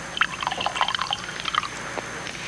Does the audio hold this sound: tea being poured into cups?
yes